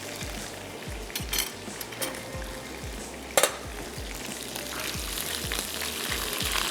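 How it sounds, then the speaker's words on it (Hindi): Fish fries lightly in a pan with a continuous, gentle sizzle, quiet and close, broken by a few soft stirring scrapes and one sharp metallic clink midway. "हल्का सा फ़िश को फ्राई कर रहे हैं ताकि इसका टेस्ट अच्छा ज़बरदस्त सा हो जाए।"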